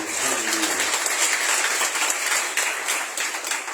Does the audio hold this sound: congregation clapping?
yes